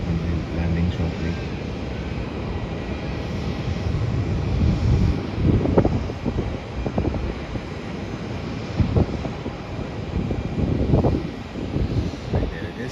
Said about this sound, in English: That's an Airbus A380, Queen of the Skies